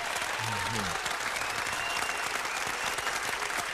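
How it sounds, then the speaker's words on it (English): An audience at a hip-hop interview applauds steadily throughout, dense continuous clapping with a brief voice heard near the start. "I say his name, give him applause."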